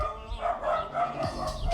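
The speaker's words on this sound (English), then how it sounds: "Dogs are having a nice conversation with each other" Dogs barking and yipping in the background of a home workout session, a few short overlapping barks at moderate distance, fairly faint under room noise.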